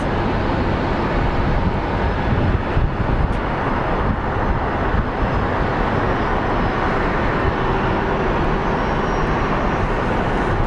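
An American Airlines airliner crosses the taxiway bridge at Phoenix Sky Harbor International Airport, its jet engines giving a loud, steady roar that fills the whole stretch without letup.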